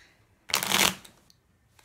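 Tarot cards riffle in a quick, crisp shuffle lasting about half a second, close and fairly loud, followed by a couple of faint taps and near-silence.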